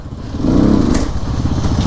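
A CrossX 300 motorcycle engine runs close by, a loud, throbbing, low rumble that holds steady through a brief moment.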